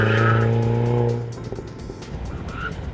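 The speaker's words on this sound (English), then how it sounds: "Here comes another car." At a Mini Cooper autocross event, a car's engine roars loudly up close at first, then drops away as the car passes. Tires squeal and skid briefly afterward while the car continues at lower volume.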